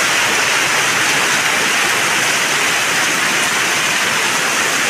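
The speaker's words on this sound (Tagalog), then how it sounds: "Ako po'y ninenervyos na sa lalakas po ng iniuulan." Heavy rain pours in a constant, loud, dense hiss that never lets up, with no voices.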